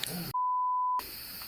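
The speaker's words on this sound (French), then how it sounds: "les deux enquêteurs vont voir leur détecteur K2 s'agiter" A K2 detector gives a single steady electronic beep at one pitch, sustained for over half a second and heard alone between stretches of quiet room noise.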